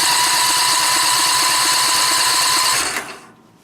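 Backpack leaf blower engine roaring at full throttle, a loud steady buzzing drone close by that cuts off abruptly near the end and fades to quiet.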